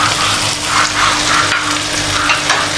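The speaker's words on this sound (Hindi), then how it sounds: "अभी मैं इसमें ये खड़े मसाले डालूँगी।" Whole spices frying in a pan of oil, a loud continuous crackling sizzle with bursts of stirring, close and steady throughout.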